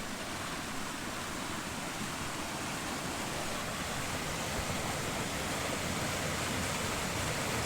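At Mammoth Spring, Arkansas, water flows in a constant, full-bodied rushing roar that holds steady from start to finish, with no one speaking.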